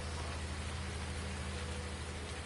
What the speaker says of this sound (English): the rain does clean the equipment in 19